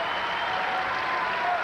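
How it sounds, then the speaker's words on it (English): Basketball arena crowd at the 1995 Final Four semifinal between UConn and Stanford applauding a player leaving the game, a continuous distant roar of clapping that stays steady and uniform. "The applause for Weber as she went out."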